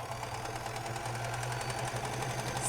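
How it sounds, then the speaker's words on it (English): A sewing machine stitches a quarter-inch seam around the thumb of a fabric mitten, giving a steady, close, continuous whir with a faint rhythmic pulse for the whole stretch and no talking. "So then I just sit down and I sew from pin to pin around the thumb"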